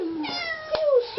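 A cat greets its owner after two weeks apart with one long, wavering meow that rises and falls in pitch. It is close and clear, with a brief sharper accent partway through.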